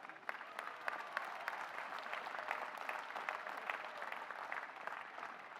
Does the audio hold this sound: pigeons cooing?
no